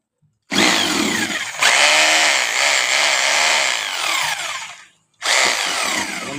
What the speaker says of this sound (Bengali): দেখুন খুব সুন্দর মেশিনটা চলছে